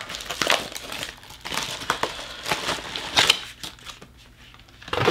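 Padded bubble envelope holding a Pat McGrath Labs makeup order being opened, giving close, loud bursts of crinkling and crumpling plastic with brief pauses between handlings and no talk.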